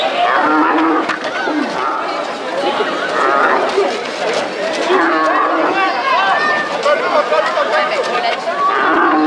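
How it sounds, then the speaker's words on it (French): A young bull lows repeatedly at an abrivado bull run in Eyragues, its moos rising over a lively outdoor crowd that chatters and calls throughout. "C'est pas une vache, c'est un petit taureau."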